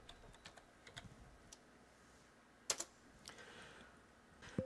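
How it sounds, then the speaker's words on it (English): Keystrokes on a computer keyboard as a word is typed into a search field in a 3D painting program, a scatter of light clicks followed by a few sharper, louder taps, close and quiet, with no speech. "You can also search for objects by typing in a word here."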